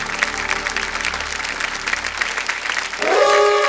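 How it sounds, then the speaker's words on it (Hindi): Studio audience applause on a Hindi TV quiz show, a dense steady clatter of many hands, loud and close, swelling slightly at the end as a bright tonal sting begins. "जोरदार तालियां बजाएं।"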